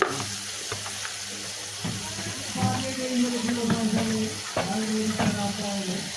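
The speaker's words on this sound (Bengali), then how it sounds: "মশলাটা ভালোভাবে কষিয়ে নেব" Masala with chilli powder and turmeric fried and stirred in a pan, a steady sizzle broken by a spoon scraping and knocking at irregular intervals, close and moderately loud.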